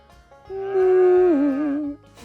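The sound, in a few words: cow mooing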